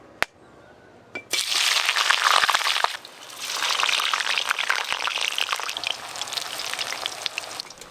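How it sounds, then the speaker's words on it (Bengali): Boiled chitol fish dumplings hit hot mustard oil with a sudden loud, steady sizzle and crackle that rises after a quiet start, eases briefly, then keeps hissing close by with no voices. "সর্ষের তেল, তেল গরম হয়ে গেছে, এবার সেদ্ধ করে রাখা মুইঠাগুলো ভাজবো।"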